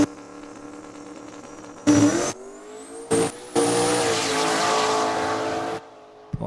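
Drag racing cars launch and roar down a track at Saskatchewan International Raceway, loud engine howls rising in pitch with brief bursts and a sustained full-throttle run before cutting off.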